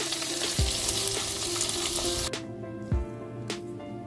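Oysters fry in hot oil with a steady, loud crackling sizzle. Partway through the sizzle drops off sharply, leaving quieter bubbling with a few clinks and knocks from a utensil.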